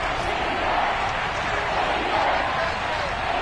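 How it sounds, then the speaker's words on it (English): Steady stadium crowd roar in a football video game builds ahead of a big third down, a dense continuous wash of cheering with no breaks, heard alone. "the crowd getting into it as we come up on a big third down"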